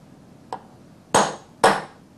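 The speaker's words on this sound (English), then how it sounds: "That way you don't have to pick up and put down parts while you're making these center punch marks." A machinist hammer strikes a center punch on metal parts in a machine shop, one light tap followed by two sharp, close metallic blows about half a second apart, alone in a quiet room.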